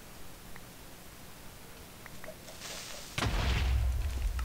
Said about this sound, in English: This has a lot of explosions,